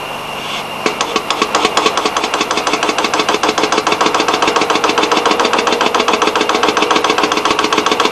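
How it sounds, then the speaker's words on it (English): Hydraulic hand pump being worked to pressurize a tightening tool on a Wärtsilä 46 engine: a fast, steady train of rhythmic mechanical clicks and knocks, loud and close, running continuously after a brief start. "Shut the pump valve and pump to the stated pressure."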